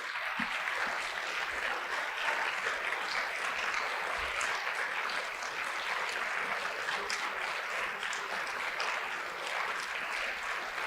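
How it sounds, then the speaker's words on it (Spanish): A church congregation claps together for about thirty seconds in praise, a steady continuous wash of many hands filling the room without pause. "Puede darle 30 segundos de palmas al Señor como una situación de darle la gloria a Dios"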